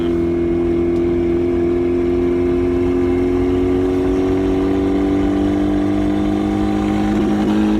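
A turbocharged Mazda Miata engine drones loudly and steadily under acceleration in third gear, its pitch slowly rising as it pulls. There are slight rough stumbles from the engine breaking up, heard close from inside the car.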